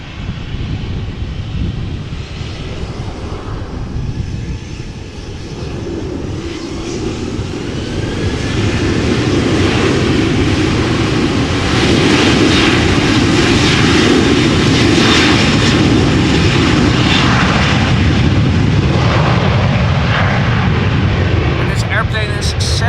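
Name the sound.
Transavia Boeing 737-800 jet departing Amsterdam Schiphol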